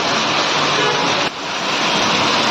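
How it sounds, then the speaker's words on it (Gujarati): Heavy monsoon downpour in Gariyadhar, a dense, steady roar of pouring rain with a brief dip midway before resuming at full strength, loud and close with no talk. "ગારિયાધારમાં ધોધમાર વરસાદ પડે છે"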